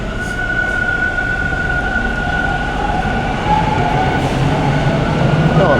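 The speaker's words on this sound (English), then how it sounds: "this sounds like the train I wanted" A Toronto subway train runs through Victoria Park Station with a steady mechanical hum, a sustained whine and a loud rumble, and there is no talking.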